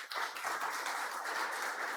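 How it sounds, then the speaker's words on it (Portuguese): Audience at a municipal public hearing claps steadily for two seconds, a dense, even patter of many hands with no talk over it. "Vamos aplaudir."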